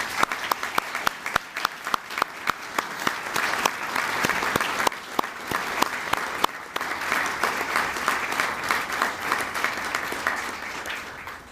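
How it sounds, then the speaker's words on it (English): Audience at the 2019 Kentucky Governor's Service Awards giving award winners a round of applause, sustained clapping from a crowd with sharp individual claps standing out, fairly steady for the whole stretch. "let's give another round of applause"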